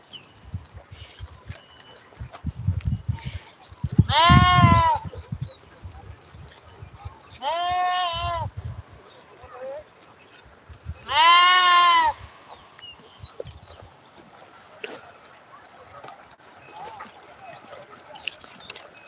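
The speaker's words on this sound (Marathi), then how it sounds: "आमचे मेंढ्या" A flock of sheep bleats three times, loud and near, spaced a few seconds apart, over faint clattering and rustling background noise.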